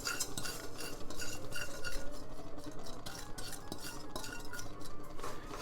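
Breadcrumbs being stirred into a pan with melted anchovy for Sicilian breadcrumbs, a steady scraping and clinking of a utensil against the pan, close and continuous with no talk.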